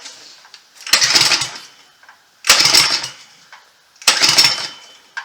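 Small engine fitted with a Black Mamba cam, choke on, being pull-started: three separate loud ripping pull-cord bursts with brief sputters, spaced about a second and a half apart, failing to catch.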